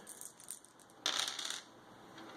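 Three dice rolled during a tabletop board game, a brief burst of clattering tumbling against a hard surface that settles within half a second, close and fairly loud in an otherwise quiet room.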